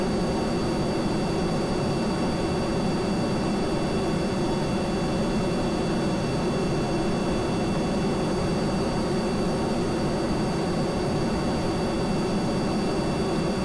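A steady, droning plane engine in Kerbal Space Program, a continuous broadband roar with faint high tonal whines, unchanging throughout and heard alone.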